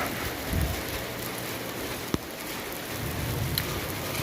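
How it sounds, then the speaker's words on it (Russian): Rain falls outdoors in Yalta, Crimea, a steady broadband patter of drops on surfaces with a few sharper individual taps, moderately loud and continuous. "дождичок"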